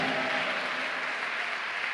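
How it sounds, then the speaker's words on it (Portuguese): A church congregation claps loudly during worship, a dense, steady wash of applause filling the whole moment without a break. "Aplaude a Jesus bem forte"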